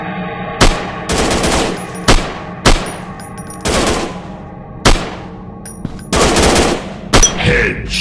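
Loud, close bursts of automatic weapon fire in an Android WWII first-person shooter, each burst opening with a sharp crack and fading off, repeated about eight times with short pauses between.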